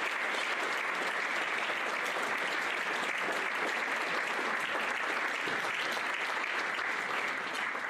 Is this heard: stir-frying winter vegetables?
no